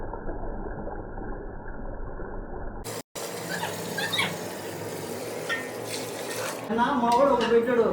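Water runs and pours steadily into a cooking pot for biryani, with clattering and splashing that grows louder toward the end.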